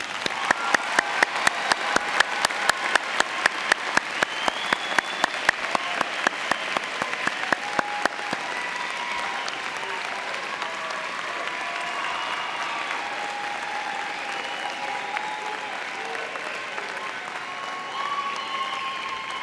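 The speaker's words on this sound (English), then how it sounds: "Let's give them a big round of applause." Sustained audience applause at a university spring commencement ceremony for applied health sciences graduates, starting with crisp, distinct claps and swelling into a dense, steady roar of clapping from a large crowd that continues throughout.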